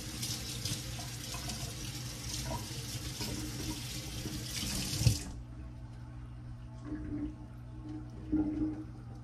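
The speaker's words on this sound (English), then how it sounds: "place it into the sink, run some water on it" Tap water runs steadily into a sink for about five seconds, a full broadband hiss that then cuts off, leaving a quiet room with a few faint knocks and drips.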